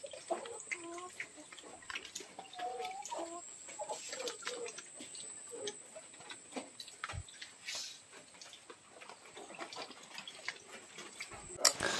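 A rooster clucks in short, scattered bursts near its coop, where floodwater has collected behind it. The calls are faint and come over a low background wash.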